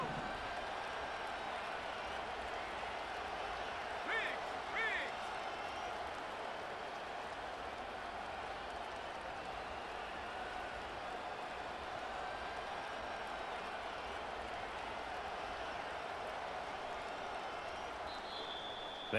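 Basketball arena crowd noise from a video game, a steady broad roar of a rising crowd filling the whole stretch, with a few brief louder bursts near the start and no clear speech.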